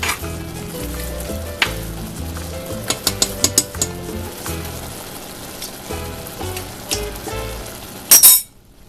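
Corn and black beans sizzle and fry steadily in a pan for a black bean quesadilla filling, with a few clinks of a utensil against the pan midway and a sharp scrape near the end.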